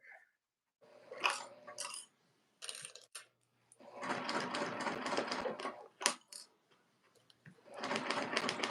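Home sewing machine stitching a tote bag closed, close-up bursts of needle chatter that start and stop irregularly, with longer runs in the middle and at the end and faint clicks between them.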